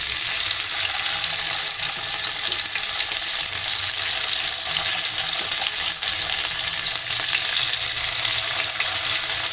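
Sardines coated in green peppercorn paste fry in hot oil with curry leaves, giving a dense, continuous close sizzle and crackle with small pops and no talking.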